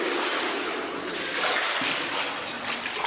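Splashing and sloshing of someone swimming through deep, freezing cold cave water, a steady broad wash of churning water that stays close and fairly loud throughout, with no talking.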